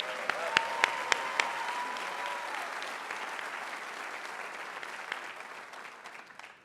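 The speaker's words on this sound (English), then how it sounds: "let's give him a round of applause" Audience applause at the Yavapai College 2019 Prescott Campus commencement ceremony, a broad steady wash of clapping from a large crowd lasting throughout, with a few sharp louder claps near the start and slowly fading toward the end.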